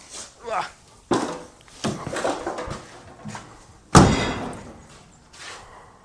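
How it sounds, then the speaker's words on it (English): A 1970s Chevelle door is shut in a garage, giving a few solid thumps and one sharp, louder slam nearby, with someone talking over and between the impacts. "you can shut the door. See if the door still closes good."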